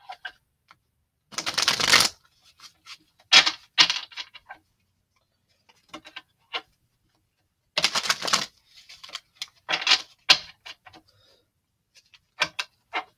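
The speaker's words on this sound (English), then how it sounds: "And then we're going to shuffle these" A deck of tarot cards is shuffled in close, crisp bursts of riffling and flicking, several separate rounds with quiet gaps and scattered taps between them, with no speech.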